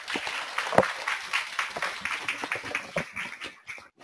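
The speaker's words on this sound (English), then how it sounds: "Round of applause for Basil" A small audience claps for a few seconds, scattered hand claps fading toward the end, fairly close and moderate in level.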